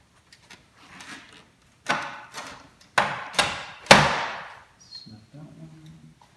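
Plastic clips on a Ram 1500 grille snapping into place, a series of sharp clacks and knocks spaced a second or so apart, close and fairly loud, with quieter fumbling in between.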